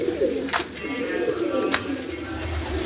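Teddy and Rampuri pigeons in a breeding setup give soft, repeated cooing calls close by, with a couple of sharp clicks or knocks among them.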